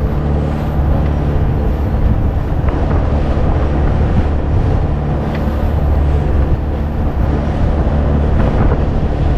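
Steady, loud wind buffeting a microphone, a constant low rumble with faint hiss, no voices.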